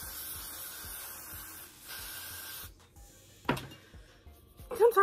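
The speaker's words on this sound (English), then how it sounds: "I'm gonna go on with a little bit more spray." Hair spray hisses from an aerosol can in two steady bursts, close by, onto curly hair bundles, followed by a soft thump and a brief voice at the end.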